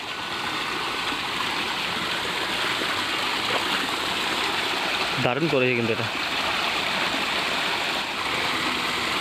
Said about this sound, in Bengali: পাহাড় থেকে ঝর্ণা নেমে চলে আসছে